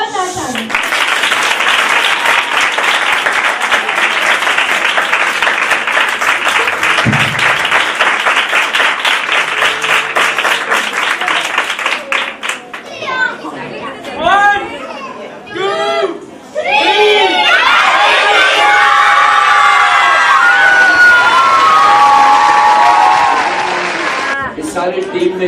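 Children and parents at a Christmas play clap loudly and steadily, then break into excited cheering and shouts mixed with scattered claps, a dense, close crowd sound throughout.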